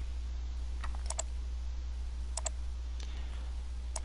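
Arrow keys on a computer keyboard are pressed while stepping through footage in Siliconcoach Live analysis software: a few quiet, crisp clicks come singly and in quick pairs against a steady low electrical hum.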